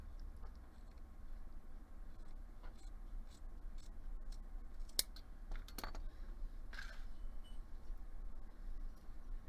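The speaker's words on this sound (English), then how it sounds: "And use a sharp scissors to just cut across the bottom." Sharp scissors snip across beading cords, a few faint, quick cuts spaced out in a quiet room with no talking.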